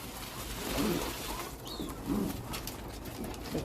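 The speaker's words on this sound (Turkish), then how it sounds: "şimdi güvercinlerimize yemini veriyoruz" Pigeons coo softly in a loft while being given a bowl of feed, low murmuring calls in two or three faint bursts over a continuous background hiss, with a brief rustle or wing flutter.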